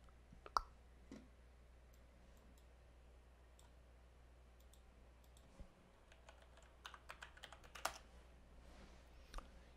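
Computer keyboard typing, quiet and sporadic, with scattered clicks and short bursts of keystrokes over a low steady hum and no talking.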